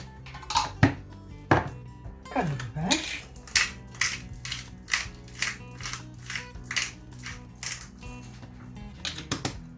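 Food being grated by hand in a home kitchen, a series of close rhythmic scraping strokes with occasional clinks of utensils against a bowl.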